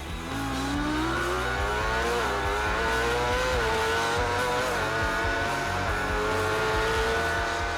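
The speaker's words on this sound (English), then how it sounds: "then a very tight loop before accelerating hard again down the hill" A race car at Oliver's Mount circuit revs hard, its engine pitch climbing steadily through gears with brief dips as it shifts, loud and close for several seconds without any voices.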